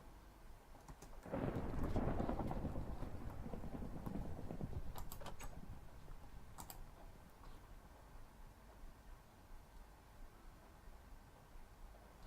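In a video game, a deep rumble of thunder rolls in and fades slowly over steady rain, with a few faint clicks toward the middle.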